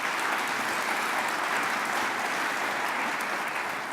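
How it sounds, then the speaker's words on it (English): Steady, full applause from an audience at a college spring opening meeting, continuous dense clapping throughout with no talking. "I think that deserves a round of applause."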